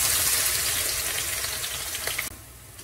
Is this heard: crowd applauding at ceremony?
no